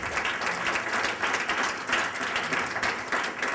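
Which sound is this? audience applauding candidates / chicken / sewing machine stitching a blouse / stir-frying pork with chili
audience applauding candidates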